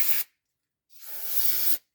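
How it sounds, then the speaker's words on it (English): Brake cleaner hisses from an aerosol can around the oil fill cap of a 2015 Polaris Ranger 570 in two close, loud bursts, one short and one about a second long, with a silent gap between. "just spray a little cleaner around the fill cap"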